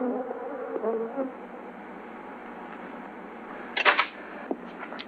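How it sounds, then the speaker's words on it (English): Africanized bees swarm with a steady, dense buzzing drone that holds throughout, a few sharper bursts standing out near the end, with no talk. "The Africanized bees attack when annoyed by color or sound."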